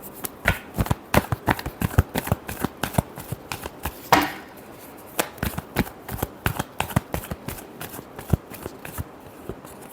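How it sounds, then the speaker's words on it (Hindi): Tarot cards are shuffled by hand close to the microphone, giving a quick, irregular run of crisp riffling snaps and soft slaps with one longer riffle partway through. "Last shuffle."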